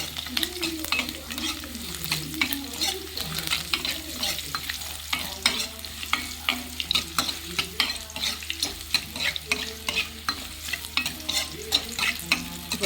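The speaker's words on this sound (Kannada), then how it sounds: "ಈಗ ಸೌಟ್ ತೊಗೊಂಡು ಕೈ ಆಡಬೇಕೀಗ. ನೋಡಿದ್ರಲ್ಲ ಯಾವ ರೀತಿ ಫ್ರೈ ಆಗ್ತಾಯಿದೆ ಅಂತ." Tomato sambar frying in a pan while a ladle stirs it, making a continuous near sizzle with frequent rhythmic scrapes and clinks throughout, and no speech.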